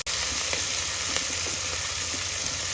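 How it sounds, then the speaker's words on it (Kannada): Onions sizzling steadily in hot oil for a Konkani-style chicken curry, a loud continuous frying hiss with faint crackles throughout and no talking. "ಈರುಳ್ಳಿ ಹಾಕಿ ಸ್ವಲ್ಪ ಕೈ ಆಡಿಸಿ."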